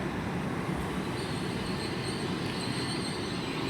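Class 800 unit 800-317 pulls out of London Paddington on a Bristol Temple Meads service, a faint steady rumble of the train with high wheel squeals drifting through the station air.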